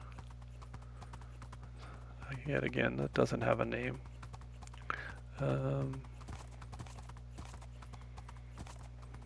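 Horse hooves clip-clop in Minecraft as a steady train of faint, soft clicks throughout, partly masked by someone talking in the middle.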